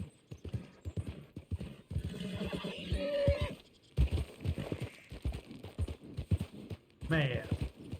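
A horse in the video game Red Dead Redemption, with clip-clopping hooves and a sharp neigh near the end, heard among game sound effects and a voice talking.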